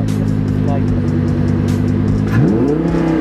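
A Lamborghini Huracan Performante's engine idles with a loud, deep rumble, then revs briefly and rises in pitch as the accelerator is gently pressed. The car is heard from inside the cabin, with people talking quietly.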